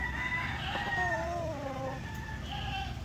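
An asil rooster crows on a small poultry farm, one drawn-out call with a few shorter calls after it, mid-distance over soft farmyard background noise and no voices.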